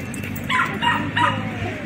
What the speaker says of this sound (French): Vous avez vu tous les chiens qu'il y a?